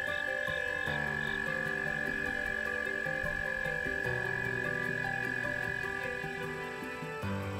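American toads calling on a Nebraska river floodplain wetland, a steady chorus of trilling calls overlapping continuously, moderately near with no talking.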